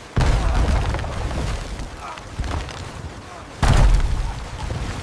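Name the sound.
loud crash of ship hitting rock, wood breaking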